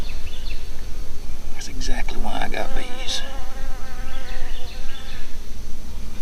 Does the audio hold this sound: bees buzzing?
yes